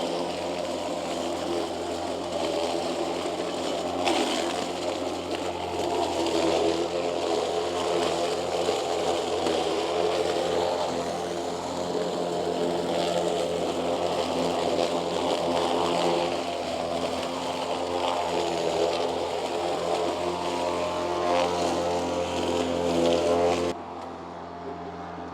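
A Mowrator S1 AWD mower grinds through a rough ditch thick with coarse plants and branch-like growth, a continuous close engine and cutting drone lasting throughout with slight swells before dropping off near the end.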